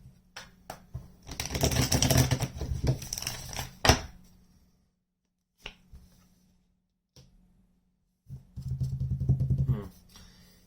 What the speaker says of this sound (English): Let's get 1 more shuffle on that one.